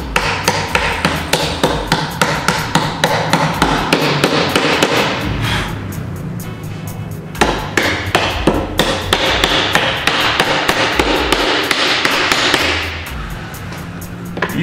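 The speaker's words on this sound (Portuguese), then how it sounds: "O VB você coloca na furação e bata com macete de borracha." Repeated sharp knocks of a rubber mallet tapping a VB cam fitting into a drilled hole in flat-pack wardrobe panels, a steady run of close, loud blows with a short pause midway.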